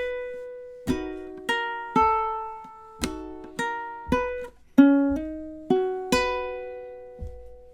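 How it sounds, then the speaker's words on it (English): Solo ukulele picking two measures of a theme tune, a bouncy, plucked melody of distinct notes that each ring and decay, close and fairly quiet with no voices. "And measures 7 and 8 combined should sound something like this."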